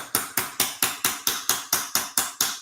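Hammer striking a metal tank panel in a steady series of eleven sharp, ringing blows, evenly spaced and close, with no talking.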